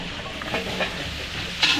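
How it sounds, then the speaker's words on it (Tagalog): Beef sizzling and sautéing with onions in a pan, cooked for catering at a town fiesta; a steady close hiss of frying with occasional stirring scrapes, no voices. "Tapos, yun na, igigisa na natin yung baka."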